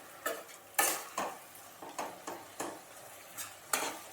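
Bitter gourd cooked with a hilsa fish head in a pan, stirred with a utensil that strikes and scrapes the pan in about eight sharp, spaced knocks over a faint sizzle, close and with no talking.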